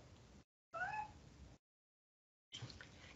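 A pet cat meows indoors: three short, close, clear meows separated by brief silences, the middle one the loudest and most drawn out.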